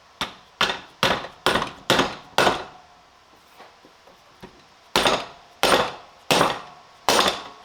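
Sharp hammer taps on a valve guide seal installer fitting seals onto a cylinder head for an RX-8 LSx drift build, struck in two quick bursts of five or so evenly spaced blows with a pause between, loud and close, no talk.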